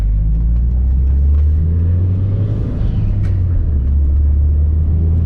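A Mitsubishi Lancer Evo 9 MR, a turbocharged car, pulls away with a steady, loud low engine drone that swells slightly as it gains revs, with no voices over it.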